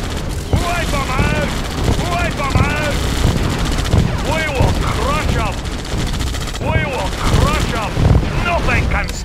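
Rapid bursts of gunfire from Red Alert 2 units in a one-versus-four skirmish against bots, loud and dense, mixed with explosions and overlapping unit voice lines.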